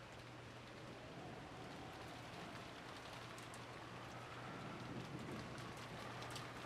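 Rain falls steadily in the Umineko visual novel game, a faint, even hiss with a low constant hum beneath, unbroken and without voices.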